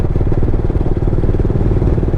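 Motorcycle with GTT technology riding in fifth and sixth gear in urban mode, accelerating on its own with no throttle input, giving a steady, close, mid-pitched engine drone with a faint mechanical clatter.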